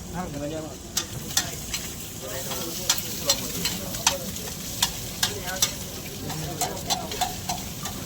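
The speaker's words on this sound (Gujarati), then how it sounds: "જો મસ્ત બટર અને એગમાં મરચા ફ્રાય થાય છે" Chilies fry in butter and egg on a hot griddle in a busy street-food setting. A steady sizzle runs under sharp, regular metal taps of a spatula on the pan, about one every half second.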